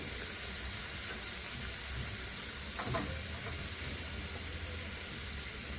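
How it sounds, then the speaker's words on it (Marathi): Masala sautéing in a pan for snake gourd (padwal) bhaji with whole masoor, a steady soft frying hiss throughout with one brief stir or scrape in the middle, no talk. "चांगला परतून घ्यायचा आहे"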